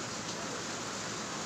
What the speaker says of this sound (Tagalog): Humahataw na naman yung ulan.